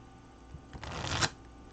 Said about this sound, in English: Cards are shuffled, and who knows what they will tell us.